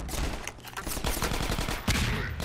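Enemy gunfire in Half-Life 2: Episode One, a rapid burst of automatic shots crackling close and loud through the whole stretch, with a heavier report near the end.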